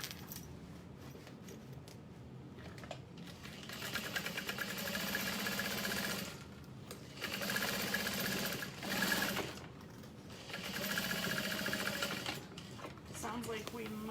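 A sewing machine runs in repeated bursts while stitching a handbag lining, its steady mechanical whir starting and stopping several times at close range, with brief pauses between runs.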